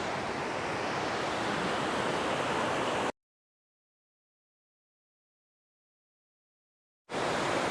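A waterfall at a hiking spot roars as a steady, dense rush of broadband water noise, close and constant, broken by a stretch of total silence before the rushing resumes.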